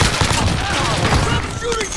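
Gunfire in the video game Call of Duty Warzone Zombie Royale, a dense burst of rapid shots, loud and close, continuing steadily through the whole moment.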